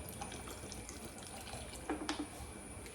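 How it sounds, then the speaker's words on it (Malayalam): Buttermilk is poured into a curry for an Onam meal, giving a faint, continuous liquid trickle close by with a few soft splashes near the end, alone and without speech. "നമുക്ക് മോര് ഒഴിച്ചു കൊടുക്കാം കേട്ടോ"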